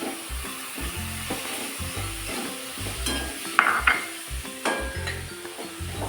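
Onions and carrots tumble into a hot pan and fry with a steady sizzle, while a utensil scrapes and stirs in repeated rhythmic strokes, close and moderately loud, with occasional light clinks against the pan.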